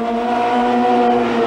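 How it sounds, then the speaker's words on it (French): A Fiat Cinquecento Trofeo race car's engine drones loud and close at steady revs, its tone rising slightly as it holds a strong, buzzing pitch with no voices. "on peut taper dans le moteur, taper dans la boîte de vitesse, et c'est une vraie voiture de course"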